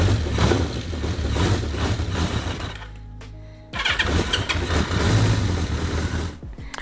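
A vintage Honda CB350F four-cylinder motorcycle cranks and fires up close by, its engine running roughly, cutting out briefly mid-way, then catching again and idling unevenly.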